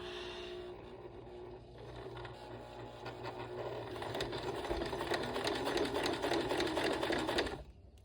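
A sewing machine stitches a fabric sling, starting with a brief pause, then running in a fast mechanical rattle that grows louder and steadier before stopping abruptly near the end.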